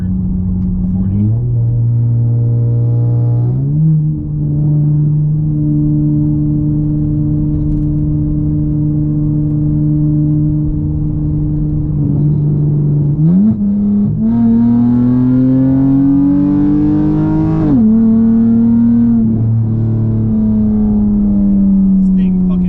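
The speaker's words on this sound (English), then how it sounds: "This thing fucking pulls hard, bro." A tuned V6 Dodge Charger accelerating hard, its engine drone climbing in pitch through gears with a shift and a rising, strained howl, loud and close from inside the car, with occasional voices.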